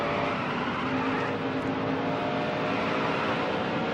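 Race cars pitting on the New Hampshire track in a NASCAR career-mode racing game make a continuous, loud engine drone with a tonal whine held at an even level throughout.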